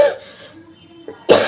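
A woman cooking in a home kitchen gives a faint throat sound, then a short, sharp, loud cough bursts out near the end of the moment.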